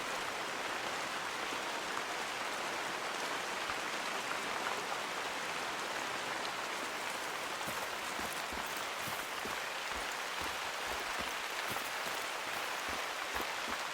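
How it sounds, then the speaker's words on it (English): Rain falling in the hunting game The Hunter: Call of the Wild, set in a Norden morning: a constant, even hiss of downpour with scattered drop patters growing more distinct toward the end, and no talk over it. "Oh, nice, this rain."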